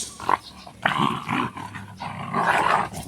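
A puppy growls playfully in short bursts, with loud, close snarls and rough grumbles rising and falling throughout.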